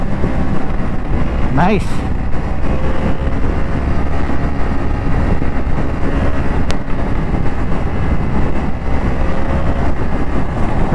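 FKM Falcon X400 twin-cylinder motorcycle ridden in fourth gear, a steady loud engine drone under heavy wind rush, with a rider's brief spoken remark.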